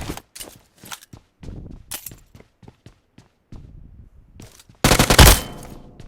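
Gunfire in PUBG Mobile: sharp, close single shots and short bursts crack out at irregular intervals, ending in a loud rapid burst of automatic fire, with almost no talking.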